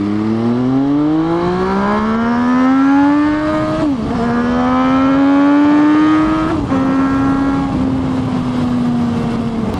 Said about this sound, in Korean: 이 엔진 이렇게 고 RPM을 쥐어짜면은 엔진의 열이 굉장히 많이 발생을 하겠죠